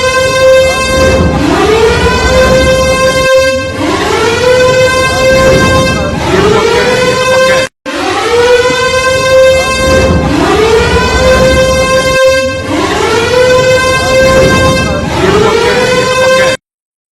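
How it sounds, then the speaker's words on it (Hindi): Air raid sirens wail at night in Pakistan, loud and close, each long rising-and-falling tone repeating in overlapping cycles with a brief break midway. "रात में वहां मिसाइलें दिखी हैं और सायरन की आवाज सुनाई दी है पाकिस्तान में"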